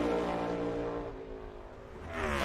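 A NASCAR Cup Series race car passes at Watkins Glen during qualifying, its engine tone sweeping in pitch, loud at first, dipping slightly, then swelling again as it nears.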